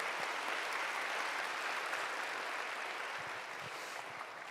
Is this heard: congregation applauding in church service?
yes